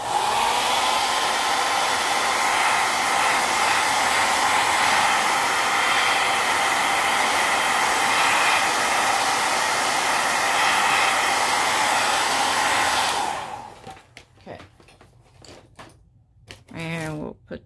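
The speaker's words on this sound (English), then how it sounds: "let's hit it right quick with the hairdryer" A hair dryer blows a steady, loud broadband whoosh over a collage page layered with cellophane, running continuously for about thirteen seconds before cutting off into a few scattered clicks and handling noises.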